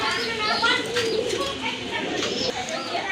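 Pigeons coo in soft, repeated throaty calls close by at a pigeon market, mixed with faint chirps and background chatter from people talking.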